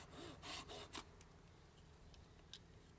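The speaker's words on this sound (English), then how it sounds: "Saw the little stub off one end," A hand saw cuts the stub off a wooden baby's rattle. Several quick, rasping strokes come in the first second, then fainter scratchy scrapes follow in a quiet setting.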